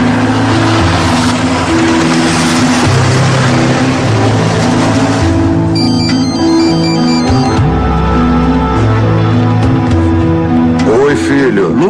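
A loud city bus pulls away carrying passengers, its engine droning and rising as it gathers speed, with a heavy roar that stays close and constant and voices mixed in underneath.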